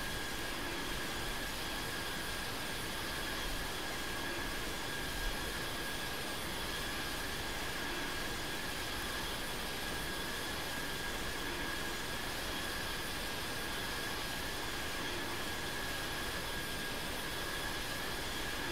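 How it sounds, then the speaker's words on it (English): Aircraft right-wing engine in the Infinite Flight game, a steady loud broadband roar with a constant high whine, unbroken throughout. "let's check the sounds on the right wing, on the right engine"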